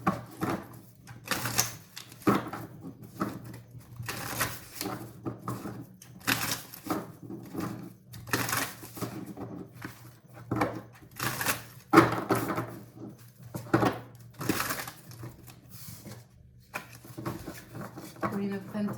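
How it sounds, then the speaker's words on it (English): Tarot cards are shuffled in repeated crisp riffles and taps, bursts separated by short pauses, with a person speaking softly between them. "Shuffling for Gemini for the rest of November."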